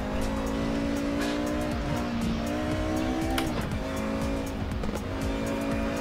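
1990s-era race cars in a sim racing game roar steadily at close range, engine whine holding and shifting pitch, with tire squeal and scrubbing mixed in.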